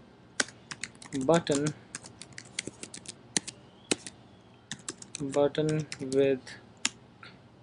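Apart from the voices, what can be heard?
typing on a computer keyboard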